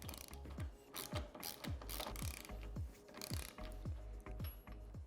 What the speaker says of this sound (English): we're going to remove the two bolts on the A-pillar on the passenger side